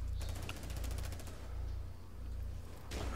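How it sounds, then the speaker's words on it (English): Rapid gunfire in a Rainbow Six Siege multiplayer match, including a shotgun, comes as a quick run of sharp pops under a low game rumble, with a louder burst at the very end. "Somebody rushes in with the shotgun."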